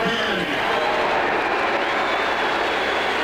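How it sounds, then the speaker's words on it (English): A stadium crowd at a 1985 college football game murmurs and cheers in a broad, steady roar, reacting with mixed feelings as the Florida–Auburn score is announced. "Mixed reaction here in the crowd as the Florida-Auburn score is given."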